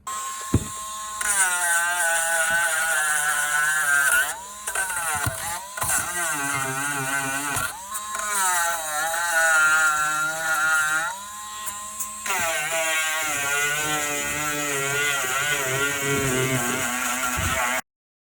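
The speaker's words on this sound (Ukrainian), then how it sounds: "Чистити я буду за допомогою дремеля і насадочки з наждачкою." A Dremel rotary tool with a sandpaper attachment cleans the rear brake caliper seats of a Peugeot 3008, a loud high-pitched whine that dips and rises in pitch as it bites and briefly pauses.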